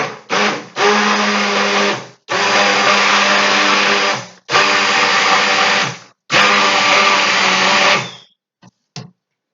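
A stick blender whirs loudly in four long bursts of a few seconds each while mixing soap batter, separated by short pauses, followed by a couple of brief clicks.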